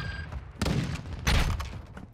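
Gunfire in the Warzone 2 video game: two heavy shots with deep booming bodies about half a second apart, close and loud, each trailing off under a low background rumble.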